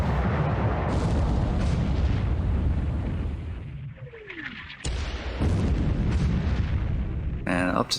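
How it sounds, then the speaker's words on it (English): A below-decks explosion aboard a ship in a naval battle video game rumbles as sustained booming gunfire and blasts, with a falling whistle midway and a rising warble near the end, and a voice talks over it. "Below decks explosion."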